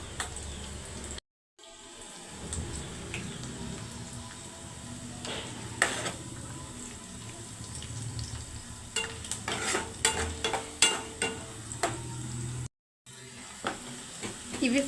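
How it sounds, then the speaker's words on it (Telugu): Chopped onions and green chillies frying in hot oil in a kadai, a steady sizzle with stirring scrapes and clinks throughout, two brief breaks in the sound. "ఆనియన్స్ను పచ్చిమిర్చి వేస్తున్నాను."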